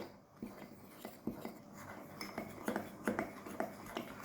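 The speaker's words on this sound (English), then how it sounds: "We'll mix them together well, so they are all homogeneous." A utensil stirs dry cupcake ingredients for a chocolate-coffee cupcake in a bowl, giving quiet, close, irregular clinks and scrapes in a steady rhythm.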